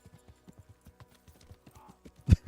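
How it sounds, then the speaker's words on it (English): Horse hooves clip-clop in Kingdom Come: Deliverance, a quick, steady run of light hoofbeats ending in a louder thud. "I keep trampling everyone with my horse every time I like run into them"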